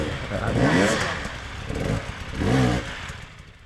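A motorcycle engine revs in two or three short swells, rising and falling at moderate volume, with some clatter and a faint sense of outdoor space around it.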